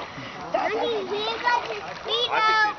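A young girl splashes while swimming in a lake, water sloshing steadily close by as a child and an adult talk over it.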